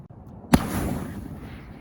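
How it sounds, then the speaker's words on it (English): A scale-model pyrotechnic special-effects explosion goes off as one sharp, loud blast, then a rumbling roar and debris noise that fades over the next second, with no voices. "I hope you guys enjoyed that explosion."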